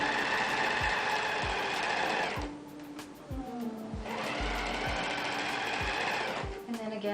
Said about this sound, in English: Now I'm sewing the bottom seam.